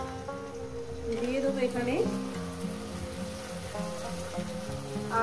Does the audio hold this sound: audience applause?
no